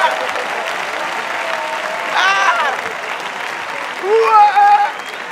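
Audience applause at a live stand-up comedy show fills the clip steadily, with a few brief whoops and a louder swell near the end.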